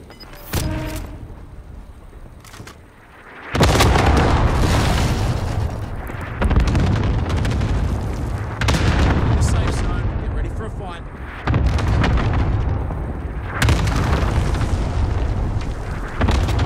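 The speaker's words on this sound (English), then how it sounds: "allied cluster strike incoming" Repeated cluster strike explosions in Call of Duty: Modern Warfare's most wanted final circle, heavy booms landing in successive bursts and rolling on for many seconds, close and loud, with faint speech over parts.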